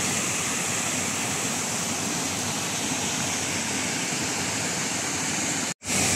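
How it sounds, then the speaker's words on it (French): Steady, dense roar of a waterfall rushing continuously, with no voices, cutting out abruptly for a split second near the end. "Et on voit la cascade là-bas."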